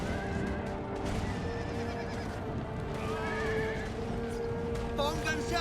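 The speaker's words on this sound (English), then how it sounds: "There's a Spanish horse." A Spanish horse neighs in the battle game Empire Total War, several whinnies and hoofbeats rising over a constant din of troops and combat, with a sharp whinny near the end.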